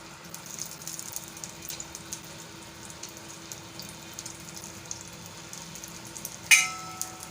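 Oval chapli kababs of raw minced meat fry in hot oil with a quiet, crackly sizzle and scattered pops, then a sharp, louder burst of spitting near the end, with no voices.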